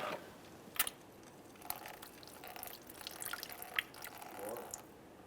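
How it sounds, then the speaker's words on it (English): Brake fluid drains from an opened bleeder screw on the front caliper of a 2005-2010 Dodge Dakota into a collection bucket. It sounds like faint, irregular drips and small splashes, quiet and close, with no one talking. "when fluid was coming out of there was a lot of air bubbles"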